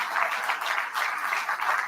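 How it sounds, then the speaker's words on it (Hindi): A startup and MSME conclave audience claps together in a brief, even burst of applause, moderately loud and steady for about two seconds. "ताली बजा सकते हैं।"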